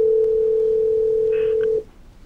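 A steady telephone dial tone hums close and clear, then cuts off abruptly with a brief keypress blip as a call to a cruise line begins.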